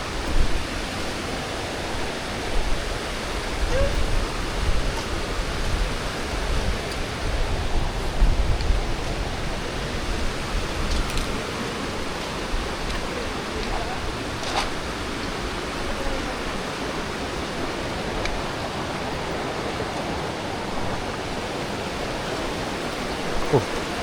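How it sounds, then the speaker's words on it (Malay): River water rushes steadily near a waterfall during a river crossing, a broad continuous noisy roar, loud and close throughout with no clear talk. "Kita akan seberang sungai ni"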